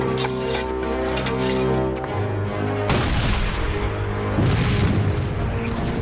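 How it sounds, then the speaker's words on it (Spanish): A Civil War regulation cannon firing exploding shells and air-bursting shrapnel rounds: two heavy booms over a sustained droning background. "Este cañón dispara proyectiles que explotan al impactar y obuses con metralla que revientan en el aire sobre la cabeza de los enemigos"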